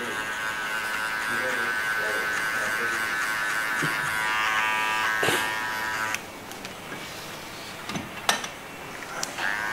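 An electric hair clipper buzzes close up while giving a zero-cut hairstyle, its steady hum shifting as the blade moves in and out of the hair, with a few sharp clicks toward the end.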